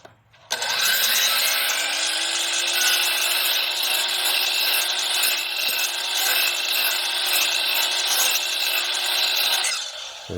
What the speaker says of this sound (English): I still use the same method of cutting out the shiplap joints. It's just very easy on a chop saw.